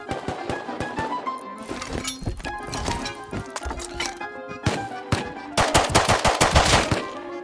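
Gunfire in the survival game Rust, rapid bursts of sharp shots and clattering impacts mixed with hoofbeat-like thuds, loud and busy, rising in intensity toward the end.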